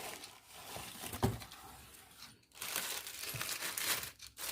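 Packaging for an Ulanzi MT-11 tripod crinkles and tears up close as it is opened and unwrapped, with bursts of rustling plastic and paper and a few sharp rips.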